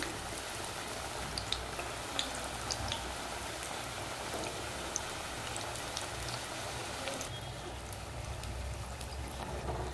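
Homemade onion samosas, two or three at a time, deep frying in hot oil: a continuous soft bubbling crackle with scattered sharper pops, fairly quiet and steady throughout, with no voices.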